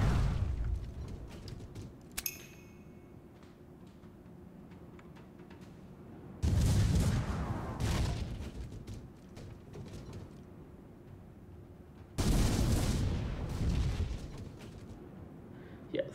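Ship cannons fire in the Port Royale 4 video game: three heavy booming volleys land roughly six seconds apart, each one fading into a low rumble before the next.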